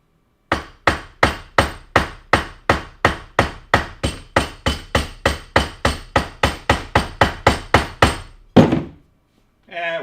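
A hammer strikes rivets on armor in a fast, even series of about twenty-five sharp metallic blows, close and loud, followed by a pause and a couple of final scattered knocks.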